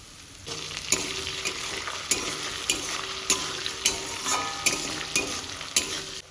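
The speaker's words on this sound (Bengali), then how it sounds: "আলুটাকে হালকা ভেজে নেব এখন দিচ্ছি কিছু বরবটি" Chopped potatoes and green beans fry in a hot pan with a steady sizzle, broken by sharp, regular scrapes and clinks of a spatula stirring them, close and fairly loud.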